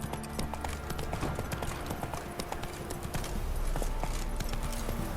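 Roach, Geralt's horse in The Witcher 3, trots with steady close clip-clopping hoofbeats on the ground while game ambience plays underneath.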